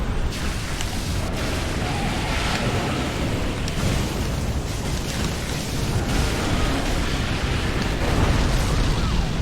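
Heavy rumbling blasts and booming explosions in a video game roll continuously, dense and loud, with sharp cracks punctuating the low roar.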